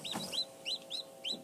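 Laying hens give a short series of soft, rhythmic clucks, about five quick calls close by against a quiet background with a low steady hum.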